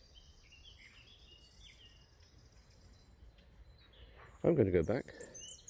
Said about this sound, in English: Birdsong's good.